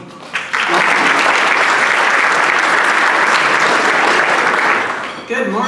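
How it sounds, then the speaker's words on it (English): Audience at a Rotary club meeting breaks into steady, full applause lasting several seconds, loud and dense throughout before tapering off near the end. "Please give him a round of applause."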